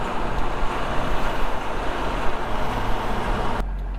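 A 2002 LB7 Duramax diesel truck fitted with a Fleece Cheetah 63 mm billet turbo accelerates hard, giving a steady, loud roar of engine and rushing road noise that cuts off abruptly near the end.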